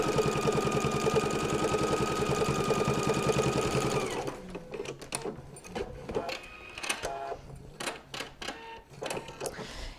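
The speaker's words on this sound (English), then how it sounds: "I'm going to sew down this edge to hold my pocket into place." A sewing machine stitches down the edge of a pocket on a fabric notebook holder, running in a fast, steady whir for a few seconds before breaking into uneven clicks and clatter.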